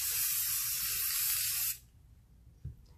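Black spray paint hisses from an aerosol can onto a cup in a loud, steady, close-up burst that cuts off sharply partway through, leaving a quiet room with a faint knock.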